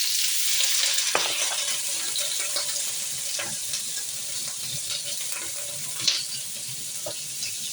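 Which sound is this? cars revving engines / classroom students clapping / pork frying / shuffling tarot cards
pork frying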